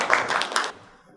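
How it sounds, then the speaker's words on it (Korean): Brief audience applause at a labor-market policy workshop, a short burst of clapping hands that swells for under a second and then quickly fades out. "큰 박수 부탁드립니다."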